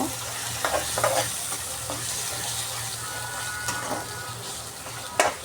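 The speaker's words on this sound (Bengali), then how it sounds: "এখানে একটুখানি হলুদ দিয়ে নেড়ে চেড়ে নেব" Turmeric is stirred into food frying in a pan, with a continuous sizzle under a low hum and several scattered spoon scrapes and clinks against the pan, close by.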